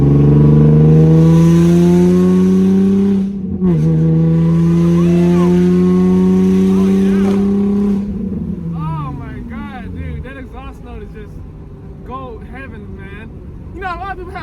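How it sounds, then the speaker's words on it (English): A Rocket Bunny Nissan 350Z's VQ engine holds a loud, sustained rev for several seconds, dips briefly, revs again, then the exhaust note falls away as people start talking over the fading idle. "Mixed emotions about the VQ's exhaust note."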